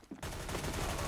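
Tec-9 pistol gunfire in a video game tournament match. After a short quiet moment, a dense, rapid burst of loud shots runs on without pause.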